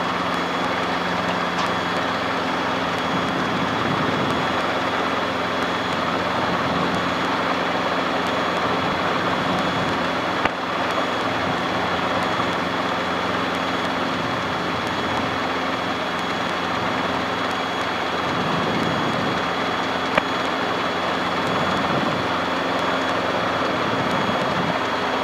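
Small aircraft engine idling and rumbling steadily while taxiing toward the runway, a loud continuous drone with little change throughout.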